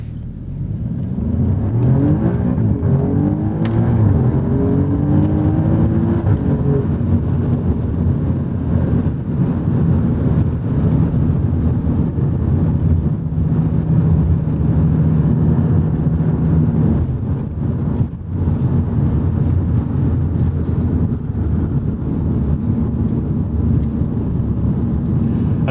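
A 2019 Alfa Romeo Giulia Quadrifoglio accelerates hard, its engine climbing through rising sweeps with a gear change, then holding a loud sustained drone heard from inside the car, no talk.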